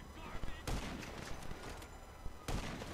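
Gunfire in the GTA video game: two sharp, loud shots about two seconds apart over a busy game soundtrack.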